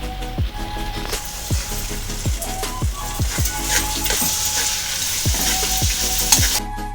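Raw mango pieces frying in a pan with salt, sizzling loudly and steadily up close, broken by repeated sharp scrapes and clinks of stirring at a regular pace, with no talking.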